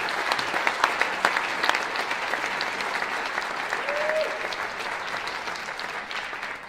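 Audience at a folk music awards ceremony applauding the Hillside Festival, sustained crowd clapping that swells early and then gradually tapers off, with a faint whoop partway through.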